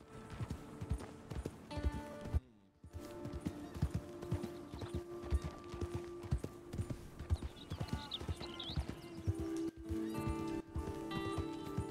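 Horse hooves clip-clop steadily in the video game Red Dead Redemption, with a horse whinnying at times and a musical background running underneath.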